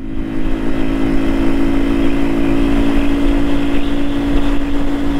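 A steady motorcycle engine drones loudly and continuously, with a constant low hum and wind rush, no talking.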